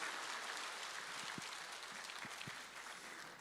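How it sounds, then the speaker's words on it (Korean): Applause from a church lecture audience after an elder's talk on cancer and health, steady broadband clapping at a moderate distance with a few sharper individual claps, sustained throughout without speech. "우리 장로님에게 다시 한번 박수 올리겠습니다"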